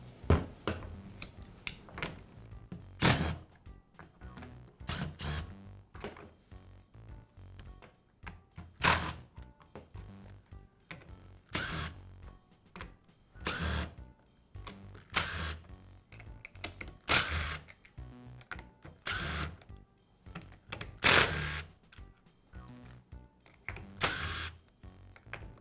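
Screws are taken out of the two-half plastic housing of a Black and Decker trimmer, giving sharp clicks and clatters of a screwdriver and small parts at close range, spaced irregularly with quiet gaps between.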